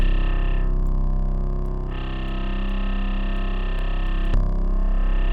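Reversed 808 bass built in the Serum synth for a fire drill beat, a loud distorted sustained low tone that swells, with a sharp transient near the end; close, no voices.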